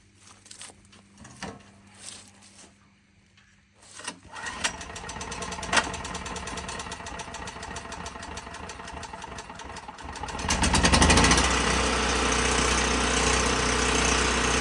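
An old small gasoline engine running on stale fuel is pull-started: a few quiet rattles and tugs, then it catches on one pull and settles into a loud, steady idle that grows fuller toward the end.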